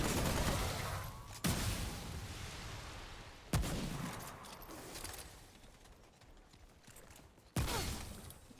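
Gunfire in the video game Remnant comes as a few sharp, separate shots spread through a low rumble of game ambience, with no talking.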